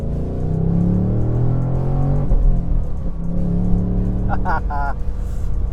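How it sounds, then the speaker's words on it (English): Inside a 2024 Ford Mustang Dark Horse with a manual gearbox, the engine drones loudly through a downshift from fourth to third, revs rising and dipping with a brief burble, while someone talks over it. "A little bit of a burble on the shifts."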